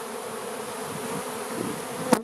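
Honeybees fly in front of a closed-up hive during a spring check, a close, steady buzzing hum of many insects.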